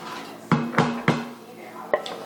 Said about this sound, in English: 2 tablespoons of butter. Stir it up a little bit.